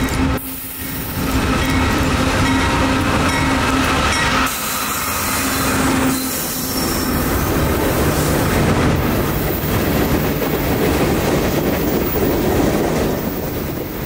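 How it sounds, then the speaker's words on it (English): A Norfolk Southern train rumbles past close by, wheels clattering on the track with a faint metallic rail screech running underneath the loud, continuous roar. "along with some screeching rails, would be our only warning of our mystery southbound coming across"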